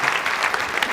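Steady audience applause at a Brazilian book-launch lecture, dense continuous clapping filling the whole moment at close range with no voices over it.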